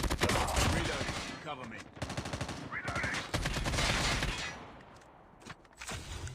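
Gunfire in Call of Duty on the Alcatraz map in a classic match. Rapid automatic bursts rattle in repeated volleys, separated by brief gaps, with scattered single shots and some distant firing.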